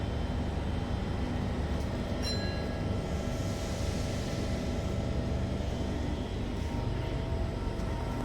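Sydney Waratah A-set electric train departing a station, a steady broad rumble and whine of the moving train holding at an even level throughout, with no talking.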